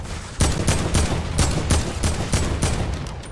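Rapid bursts of video game gunfire crack out in quick succession, several loud shots spaced about every quarter to half second, with no talking over them.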